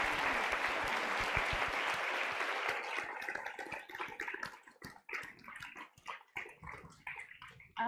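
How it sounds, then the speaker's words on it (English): An audience at a girls' leadership summit applauds in a dense, steady clatter that thins after a few seconds into scattered individual claps before fading out. "Let's have a really big round of applause."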